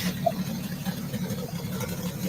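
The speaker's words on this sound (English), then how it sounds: "Sounds like a little exhaust leak" Car engine idling with a small exhaust leak, a low, steady, faint rumble with a slight ticking texture and no clear talking.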